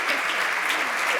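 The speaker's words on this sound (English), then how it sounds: "Let's give them a round of applause" An audience applauds at the close of an expert panel event, a dense steady wash of clapping from many hands, sustained and fairly loud for the whole moment.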